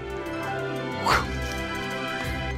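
A film-trained dog barks and whimpers eagerly for a toy, a short yelp standing out over steady background music and room noise.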